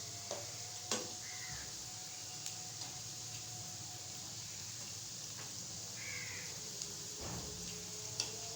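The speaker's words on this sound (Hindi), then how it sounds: "हम 2 मिनट इनको एक साइड से फ्राई करेंगे ताकि ये एक साइड से ब्राउन हो जाए" Pakoras fry in hot oil with a constant, even sizzle at moderate volume. A crow caws a few times in the background.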